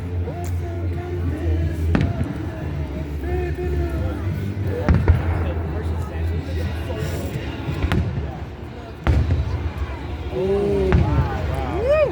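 Fireworks bursting at the Lake Placid 250th celebration, repeated booms and crackling pops at varying distances over a constant crowd murmur, with people talking nearby.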